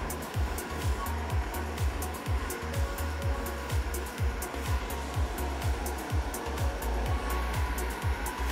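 An electric hair clipper buzzes steadily during a barber's haircut demonstration, with a quick, regular series of sharp clicks and strokes as it passes through the hair, close and moderately loud.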